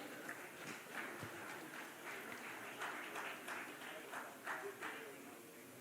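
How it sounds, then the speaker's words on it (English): Audience at an economic growth and employment summit session in Bhubaneswar claps in a moderate, fairly distant round of applause, a steady patter of many hands that runs on over a faint room murmur. "can I expect a round of applause from all of you?"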